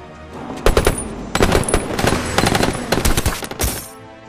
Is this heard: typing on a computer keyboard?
no